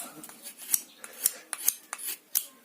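A knife of 9KhS steel shaves wood in a series of about eight quick, crisp scraping strokes, each a short bright rasp with brief pauses between, close and fairly quiet.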